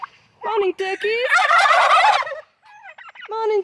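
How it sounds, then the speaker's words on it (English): Turkeys at breakfast time on a homestead erupt into loud, close gobbling, several birds calling in overlapping rapid bursts with a few shorter calls around them. "Breakfast time! Morning turkeys!"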